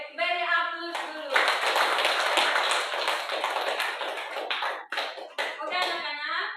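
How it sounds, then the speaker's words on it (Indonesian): A class of students applauds in a classroom, with a sustained burst of hand clapping for several seconds, some children's voices mixed in, and a few scattered claps at the end. "beri aplaus dulu."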